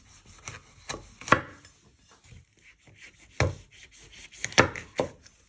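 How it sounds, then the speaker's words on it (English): Knife slicing a vegetable on a wooden chopping board in a home kitchen, giving irregular close thuds and taps, some quick doubled strokes, with quiet gaps between and no voices. "You just want to finally slice it, not all the way through, like you did with your onion."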